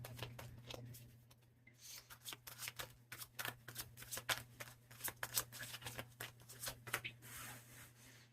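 Tarot cards being shuffled by hand, a steady run of soft, crisp riffling flicks with a low hum underneath, fairly quiet and close, no talking.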